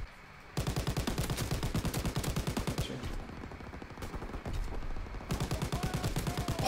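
Gunfire in the World War II shooter Call of Duty: WW2, dense rapid automatic fire that runs almost continuously, with short breaks and bursts of several weapons overlapping.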